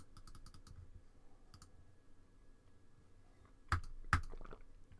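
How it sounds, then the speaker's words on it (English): Quiet computer mouse clicks sound on website logos, mostly faint scattered taps with two sharper, louder clicks near the end, no voices. "I'm just clicking on them."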